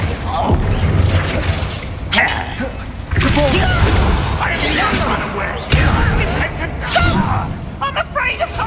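Confringo fire spell blasting in the game Hogwarts Legacy, with loud repeated bursts, crashes and shattering impacts one after another over continuous game noise, and a voice talking over parts of it.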